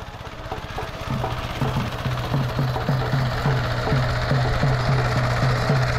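A small tractor engine churns through mud, its steady rhythmic chugging pulses running continuously and growing slightly louder, close by with no talk.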